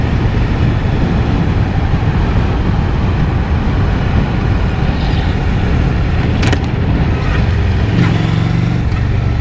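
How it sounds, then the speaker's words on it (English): Rush hour road traffic in Baltimore heard from a moving motorcycle, a steady loud roar of engines and wind with passing vehicles throughout and a brief sharp whoosh midway. "This is rush hour traffic."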